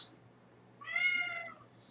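A house cat gives a single clear meow, close and moderately loud, in an otherwise quiet room with a faint steady hum in the background.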